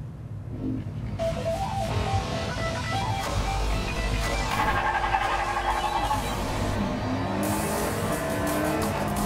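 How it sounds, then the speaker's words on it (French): Toy-scale cars race along orange plastic tracks in the Hot Wheels Unleashed video game, with loud continuous engine roar, rising revs and tire noise filling the clip alone, no voices. "avoir des véhicules comme ça, rouler sur des pistes qui rappellent vraiment les pistes Hot Wheels"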